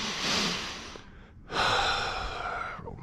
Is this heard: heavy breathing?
yes